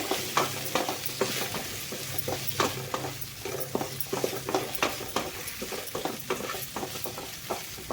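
Masala powder frying in hot oil while being stirred, a steady sizzle broken by frequent sharp spoon scrapes and clinks against the pan, close and without talk.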